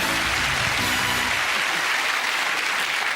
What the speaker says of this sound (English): You'll have to give them all a round of applause for losing.